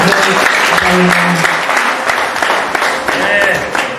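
Sustained, loud applause from an audience at a Rwandan gathering, steady clapping throughout with voices mixed in beneath it.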